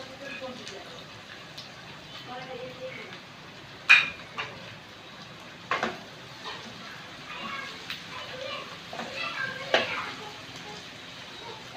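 Prawns are tossed into a pan with green chilies and stir-fried. A soft sizzle runs underneath with a few sharp clinks of the utensil on the pan, while a person talks over it.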